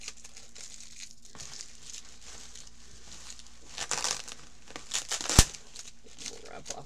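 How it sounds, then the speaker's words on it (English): Tape is peeled and pulled off a mailed package, giving soft crinkling and rustling that builds toward a few louder tearing rips near the end, with a sharp crackle at the peak. "Sorry about the sound of the tape."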